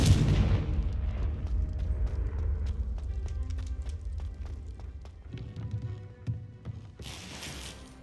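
Confringo spell explosion in the video game Hogwarts Legacy, a deep booming blast at the start that rumbles and fades, followed by lighter game effects and a brief burst near the end.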